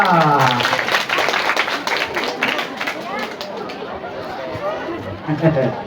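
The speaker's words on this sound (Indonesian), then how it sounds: "Tepuk tangan dulu untuk 3 calon kita" A school audience applauds the student council candidates at a high school debate. Dense clapping is loudest at first and then thins out, mixed with crowd chatter and voices talking.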